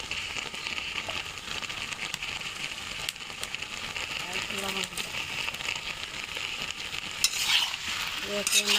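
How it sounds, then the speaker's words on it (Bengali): Meat is stirred in a wok with turmeric and a little salt, giving a continuous close sizzle with scraping and clinking of the spoon, louder toward the end, under faint talk. "একটু নাড়াচাড়া দিয়ে ঢেকে দেবো, ঢেকে একটু ভাপিয়ে নেব মাংসটাকে।"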